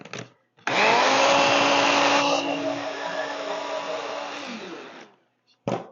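A blender whirs loudly in one pulse of about four seconds while blending homemade restaurant-style salsa. Its pitch shifts partway through before it winds down, and short bursts of talk come just before and after.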